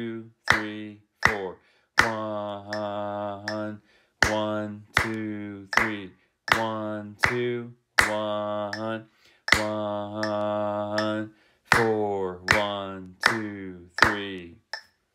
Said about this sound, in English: I'm going to clap and count, though